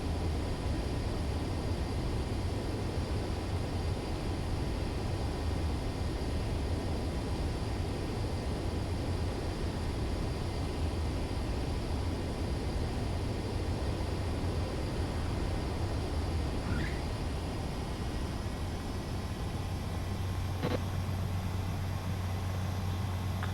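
Jet aircraft on a steady landing approach to a runway in the Ace Combat 7 game, a continuous broadband engine roar with a low rumble, holding even and loud with no voices.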